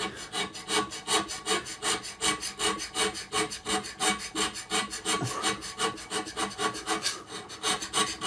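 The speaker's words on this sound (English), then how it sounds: "I reverted to some hand scraping to get rid of this almost flat blade" A hand scraper works over the hardened bed of an AT-300 lathe-mill-drill, giving a quick, even run of rasping strokes, roughly three per second, close and clear with no talking.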